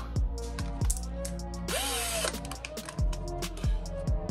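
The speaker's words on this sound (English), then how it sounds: "Now we need to drill this piece with a wider drill bit to make room for the screw hands." A power drill with a wider bit bores into a plastic part from a Hasbro Ghostbusters proton pack, close and loud, with repeated short whirring bursts and a sustained grinding run in the middle.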